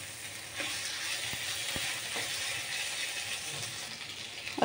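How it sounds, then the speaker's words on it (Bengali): Vegetables and spice paste sizzle and fry in a pan while being stirred for a Bengali bata fish curry, a quiet, steady crackling hiss with small scraping clicks. "দিয়ে একটু উল্টে পাল্টে দিয়ে দেব সামান্য পরিমাণ জল"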